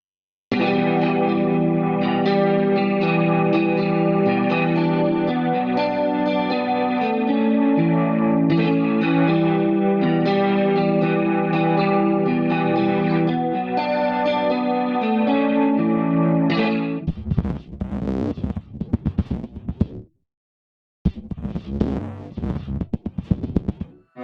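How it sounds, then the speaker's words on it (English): Shimmering, effects-drenched electric guitar layers from a UJAM Cinedream synth plugin wash together into a dense, wide ambient texture, then break into choppy, stuttering swells with brief gaps near the end. "A synth ideal to create cinematic soundscape and layers with electric guitar as its basis"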